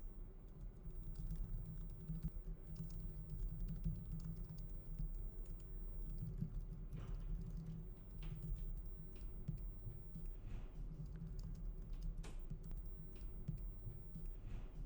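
Keyboard typing while entering Swift code, a steady run of soft key clicks over a low room hum, continuous and fairly faint throughout.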